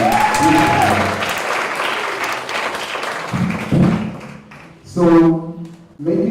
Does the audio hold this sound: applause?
yes